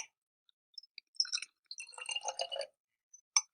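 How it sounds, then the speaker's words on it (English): Water poured into an Erlenmeyer flask gives a short burst of close, trickling and splashing drips, with a few isolated clicks around it in otherwise near silence. "Now we're going to move this same water over to the Erlenmeyer flask."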